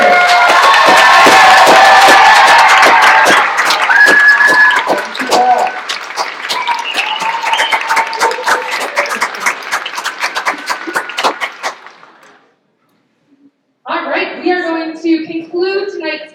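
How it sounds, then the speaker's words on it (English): Loud audience applause and cheering fill a high school band concert hall, dense clapping fading out over about twelve seconds, followed by a brief pause and a voice speaking. "I think he deserves one more round of applause."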